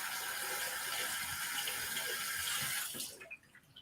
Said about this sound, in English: let me just give it a quick rinse